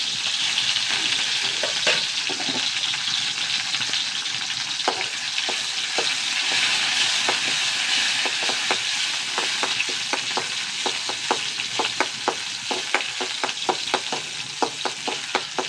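Sliced shallots and curry leaves frying in oil, a constant close sizzle with bursts of crackling and stirring clicks growing busier toward the end, no talking.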